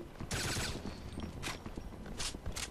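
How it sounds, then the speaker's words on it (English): Bursts of sci-fi laser gunfire in the Wolfenstein game, a few sharp bright volleys spaced through the clip over a busy, clattering game background with no talk. "Sounds like a laser gun."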